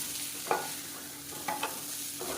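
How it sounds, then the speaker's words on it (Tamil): Chicken roasting in a pan, a steady background sizzle with a few short scraping knocks as it is stirred. "நல்லா அப்படியே ரோஸ்ட் ஆகிடுச்சு பாருங்கள்"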